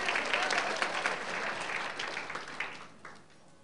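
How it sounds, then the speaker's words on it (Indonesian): A church congregation bursts into enthusiastic, dense applause that stays full for a few seconds before thinning out and fading. "tepuk tangannya dahsyat."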